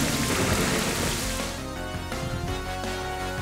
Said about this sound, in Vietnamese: Gọi mưa xong rồi cuồng phong thôi.